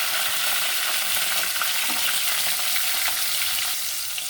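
Onions and tomatoes fry in hot oil with cumin seeds, bay leaf, cardamom, cinnamon and cloves, giving a loud, bright, continuous sizzle with faint stirring scrapes and no voices.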